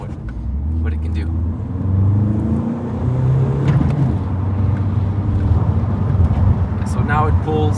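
A VW Scirocco accelerating hard in third gear, engine note climbing in pitch as it pulls, heard from inside the car with wind rush and a voice talking over it.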